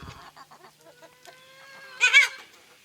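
Backyard hens, including a newly introduced hen, cluck softly in short, scattered notes, building to a louder, squawky burst of calls near the end, close by and without talk.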